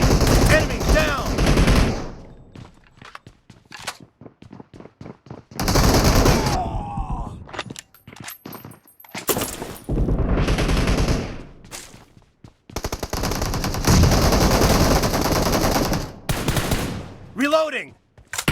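Loud S12K shotgun fire from the mobile game PUBG Mobile comes in several heavy bursts of rapid shots, separated by short quieter gaps with faint game sounds in between.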